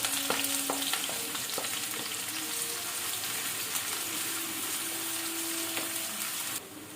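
Sliced onions and whole spices frying steadily in hot ghee for ghee rice, a continuous close sizzle with light crackle and a few spoon stirs, no talking.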